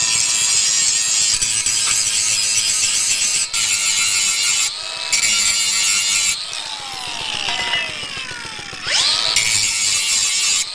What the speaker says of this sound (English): I'm going to sharpen these blades with this angle grinder